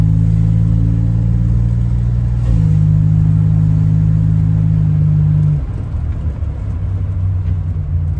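Buick Grand National rolling down a road with a loud, steady low engine drone that shifts pitch mid-way and later drops in level as the gear changes, heard from inside the car with no talking.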